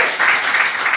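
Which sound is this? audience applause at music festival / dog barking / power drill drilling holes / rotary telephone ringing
audience applause at music festival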